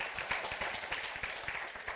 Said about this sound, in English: Please, if you want to clap, do.